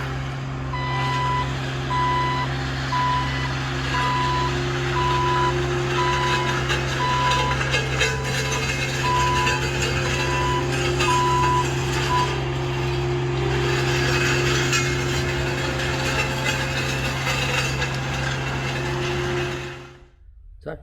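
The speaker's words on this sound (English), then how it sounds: "I'm currently rolling the driveway for the farmer" A roller compacting a farm driveway, its engine droning steadily close by while a reversing beeper sounds in regular pulses for much of the time, with no talk.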